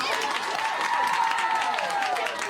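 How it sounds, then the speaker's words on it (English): A studio audience applauds and cheers for Uncle James on a comedy show, a dense steady wash of clapping and crowd noise lasting throughout, loud and close. "Uncle James, let's have a big round of applause"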